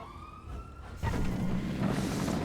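A police siren in the video game GTA 5 wails steadily, faint at first and then louder after about a second, accompanied by engine and traffic noise.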